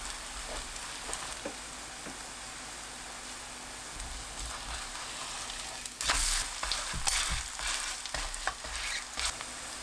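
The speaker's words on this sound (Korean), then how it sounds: "팬이 예열되면 중약불로 낮추고 반죽을 납작하게 올려주세요." Batter of kelp and enoki mushroom pancake frying in an oiled pan over medium-low heat, a steady soft crackling sizzle that grows louder and denser halfway through, with occasional light utensil taps, close and unaccompanied by speech.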